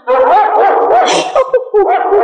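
A dog gives loud, close, drawn-out whining barks and yelps in quick succession, sounding like a dramatized scene.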